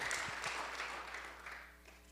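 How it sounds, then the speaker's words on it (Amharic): A church congregation claps together during a sermon, a soft, steady patter of many hands that stays fairly quiet and even throughout with no voices on top. "ደስ ብሏቸው አጨብጭቡ ለሰራዊት ጌታ ለእግዚአብሔር"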